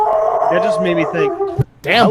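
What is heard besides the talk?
dog barking or howling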